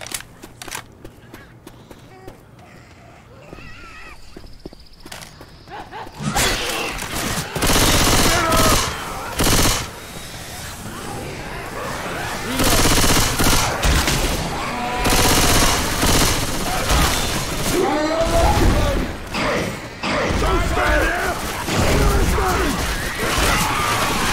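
Left 4 Dead 2 video game machine gun fire, loud sustained bursts with brief pauses, mixed with game effects and clanks after a quieter opening stretch.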